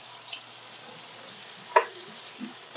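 Chopped onion dropped into a hot pan while cooking nopales en vinagre gives a quiet, steady sizzle, with a brief louder burst of crackling as it lands.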